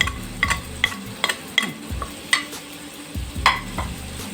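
A biryani base with salt and turmeric powder is stirred and sautéed in a pan, with a steady soft sizzle under repeated sharp scraping clinks of the spoon, close up and with no talk.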